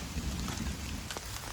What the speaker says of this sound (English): And I can have a nice quiet evening here listening to the thunderstorm.